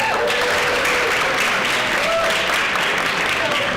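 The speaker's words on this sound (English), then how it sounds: "Can we get a round of applause for" An audience at the close of a university student government senatorial forum applauds in a steady, dense wash of clapping that runs throughout, with voices faintly mixed in.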